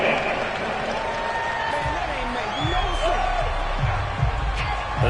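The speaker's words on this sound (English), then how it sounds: "This home crowd, they're happy with that call." A home crowd at an American football game roars steadily through the whole stretch, a dense, continuous cheer with some whoops and clapping rising from it. Commentators talk over the noise.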